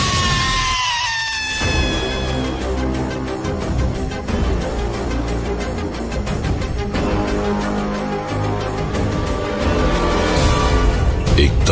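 A sharp, high scream rises and then falls at the very start of a Hindi horror tale. It lasts about a second and a half before dense, eerie background music and effects take over.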